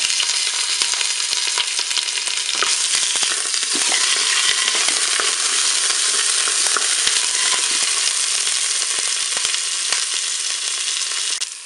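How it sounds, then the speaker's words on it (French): Filet mignon browning in hot olive oil inside a Cookeo multicooker, a dense, steady sizzle with scattered crackles and pops, close and continuous throughout. "Mon huile est chaude, je vais pouvoir faire dorer mon filet mignon."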